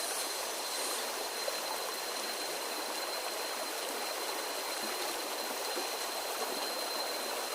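A mossy river in rainy season, below a mountain, flows steadily with a continuous hissing rush of water, broad and even throughout with no voices over it.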